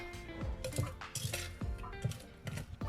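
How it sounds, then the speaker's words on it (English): Metal kitchen utensils clink and tap against bowls and a counter while making apple fritter doughnuts, a whisk set down and a spoon picked up in a series of light, close clatters. "Then I could put away the whisk. And just get a spoon."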